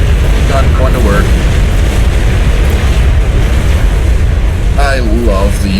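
A UEF gun commander firing in the strategy game Supreme Commander: Forged Alliance, its heavy booming shots blending into a constant loud battle rumble, with a voice talking over it.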